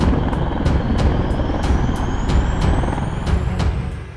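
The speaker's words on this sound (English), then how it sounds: "The highlight of the Osprey is its tilt-a-rotor technology that enables it to function as both a plane and a helicopter." A V-22 Osprey tiltrotor military aircraft roars with a loud, steady rotor thrum and a rhythmic chopping beat, plus a rising whine, with no voices.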